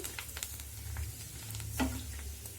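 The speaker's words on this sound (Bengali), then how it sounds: "এই যে ফুচকা ভাজা শুরু করে দিয়েছি" Fuchka puris frying in hot oil give a steady, close sizzle with soft crackling and a brief louder pop near the end, heard alone without talk.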